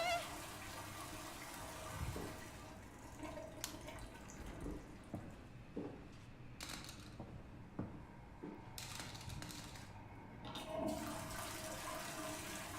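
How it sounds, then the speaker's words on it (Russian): A toilet that fails to flush gives a weak, gurgling wash of water with scattered clicks and clunks from the handle, fairly close and continuous for several seconds. "Да блин, не смывается."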